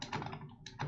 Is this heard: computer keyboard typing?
yes